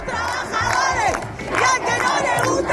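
A large crowd of university students chant and shout in unison at a protest, a dense, loud mass of voices with rhythmic surges and bursts of cheering throughout.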